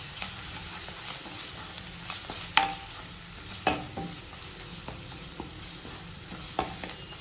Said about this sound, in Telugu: అల్లం వెల్లిపాయ పేస్ట్ వేసుకుంటున్నాను